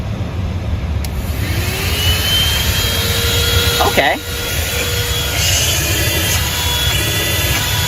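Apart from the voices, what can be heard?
ThisWorx 12V handheld car vacuum running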